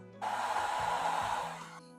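A portable hair dryer with a soft bonnet attachment starts up on low heat, a close, steady whooshing blow of air that runs for well over a second before winding down, with faint low thumps beneath it.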